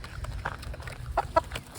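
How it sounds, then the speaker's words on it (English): Hungry free-range backyard chickens crowd around feed, giving a few short soft clucks over a low, steady background rumble. "They act like they're starving, famished chickens that get no food."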